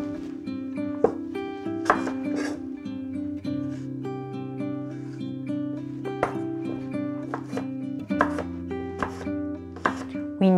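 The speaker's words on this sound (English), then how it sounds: "I'm going to start by chopping up some apples and some pear" Apples and pear are chopped on a cutting board with a knife, a series of sharp, close knocks in an irregular rhythm over steady background music.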